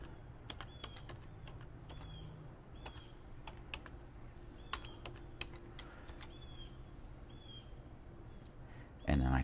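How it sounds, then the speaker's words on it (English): A web address is typed on a computer keyboard: quiet, scattered clicking keystrokes in an irregular rhythm over a low background hum, with one louder thump at the very end. "I type in speedtest.net"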